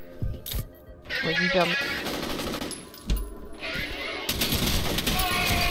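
Gunfire in the video game F.E.A.R., with sharp automatic bursts and single shots cracking loudly through the battle, followed by a sustained rattle of fire, with a player talking over it.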